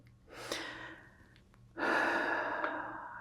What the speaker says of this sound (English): maybe bringing in a small breath right there